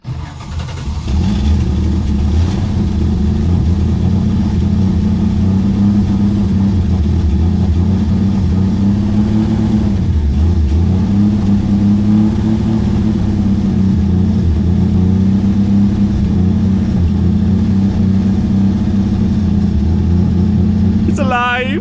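A barn-find 1971 Dart engine, revived after sitting 25 years, catches and runs loud and close, its rough idle surging with repeated revs throughout.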